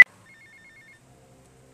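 A telephone in GTA Vice City gives one short burst of electronic ringing after a sharp click, the tone pulsing quickly for under a second before fading into quiet background sound.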